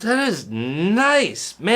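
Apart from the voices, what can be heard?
No distinct noise like a dog, phone or traffic.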